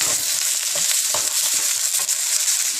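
Okra and onions sizzle and fry steadily in a pan for a Punjabi-style bhindi masala, with a dense continuous hiss and a few soft stirring knocks throughout, close and alone with no talk.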